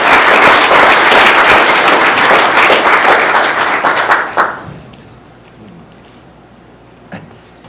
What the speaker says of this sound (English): let's give a round of applause more